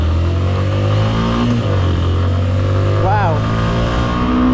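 A Suzuki Intruder 150 motorcycle engine runs loud and close, revving steadily with a rising rev partway through, while a rider exclaims over it.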